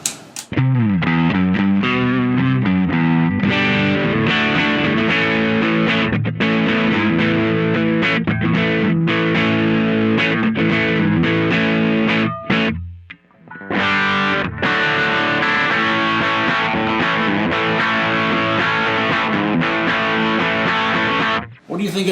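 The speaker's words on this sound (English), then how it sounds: "we're going to add in our distortion pedal now." Electric guitar played through a distortion pedal on a Kemper Stage profiler, loud, sustained overdriven chords and single notes ringing out continuously, with a brief pause midway before the crunchy tone resumes.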